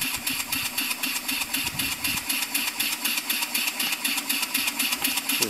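A Lynx steam generator engine runs at 20 psi on a pine wood fire, chuffing in a fast, regular beat with a steady hiss under each stroke, close and fairly loud.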